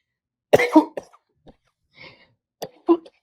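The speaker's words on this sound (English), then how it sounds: "I'm sorry I'm coughing here" A person coughs close up indoors, a heavy burst of several coughs followed by a lighter cough and a throat clear, with quiet gaps between.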